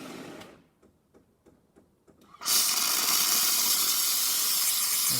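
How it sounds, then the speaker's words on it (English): A Jura Impressa coffee machine gives a few quiet rhythmic pump clicks, then its steamer bursts into a loud, steady, close hiss of escaping steam that holds to the end. "it's a stream of steam coming out of the steamer"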